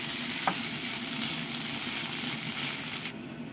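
Ground meat sizzles steadily in a pan with ketchup added, a continuous close frying hiss with a stir or scrape partway through, then cutting off sharply near the end.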